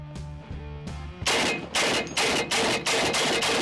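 Several booming shots from a shoulder-fired AK-50 rifle, a heavy .50-caliber rifle, come in a spaced series of about six, loud and close, following a steady electronic tone.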